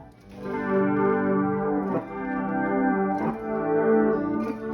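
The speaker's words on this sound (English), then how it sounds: "Then I have a volume swell." Guitar chords fade in smoothly via a pedalboard volume swell effect without a picked attack, swelling up in volume with a chorus-like shimmer and a soft wash of echo.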